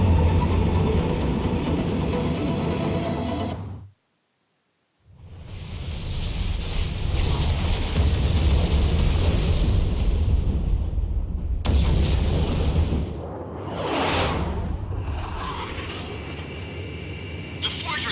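Loud rumbling blasts and roaring bursts as a fortress explodes in Ace Combat X fill the clip, cutting to silence briefly, then booming again with a sweeping whoosh.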